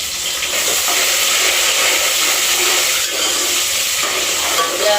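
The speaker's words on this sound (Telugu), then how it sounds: "ఉల్లిగడ్డ ఈ రెండు మంచిగా వేగాలి నూనెలో." Sliced onion and green chilli fry in hot oil for an okra sambar. A close, steady, loud sizzling hiss carries on without a break throughout.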